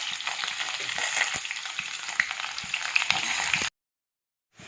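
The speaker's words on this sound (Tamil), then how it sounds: "இதோட நம்ம எடுத்து வச்ச வெங்காயம், கருவேப்பிலை இதையும் போட்டு நம்ம இதில் தாளிச்சிடுறோம்." Onions and curry leaves crackle and sizzle in hot oil for a tempering, a dense close frying hiss with small pops that cuts abruptly to silence after about three and a half seconds; no talking.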